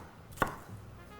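A knife makes a single sharp chop through vegetables, bell peppers being cut into medium pieces. The cut is close and brief, with quiet kitchen background around it and no talk.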